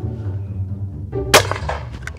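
A single loud, sharp shotgun blast from a Perazzi MX8 cracks out close by after a brief lull, then decays quickly.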